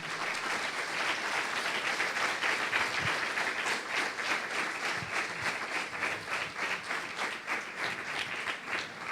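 A church congregation claps steadily in a dense, continuous wave of applause, fairly distant and moderate in level, with no talk over it.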